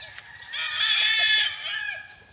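Gamefowl roosters on a farm crow loudly and close, one long crow carrying over scattered clucks from the flock, with no talking.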